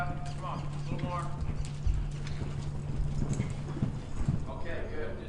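Horse hooves clip-clop steadily during a riding lesson focused on fence work, the hoofbeats fairly quiet and continuous while an instructor talks over them throughout.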